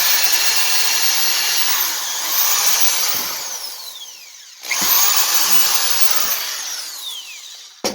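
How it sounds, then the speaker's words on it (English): A power drill whines loudly, bogging down and revving up as it bores a hole for T-track on a router sled, pausing briefly midway before running again. "Drill the hole, and I like to put a screw right in it."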